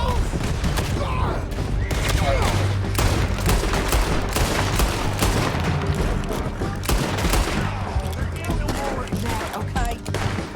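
Loud, dense gunfire from riders crackles through a chase in the western game Red Dead Redemption 2, rapid overlapping shots over galloping and rumble, with shouting voices mixed in.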